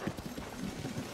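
Hooves clip-clop in a brisk, even rhythm as a horse moves along in Zelda: Tears of the Kingdom, close and moderately loud with no voices.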